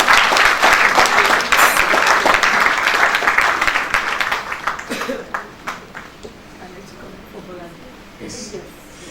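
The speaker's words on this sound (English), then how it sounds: "So please clap for her again." An audience at a STEM conference claps for an honoured mother, loud sustained applause that thins into scattered individual claps and fades near the end.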